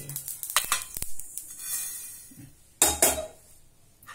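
Fenugreek seeds fry in a pan, with clinks and scrapes of a spoon stirring against the metal, a couple of sharp louder clatters, and a soft sizzle between them.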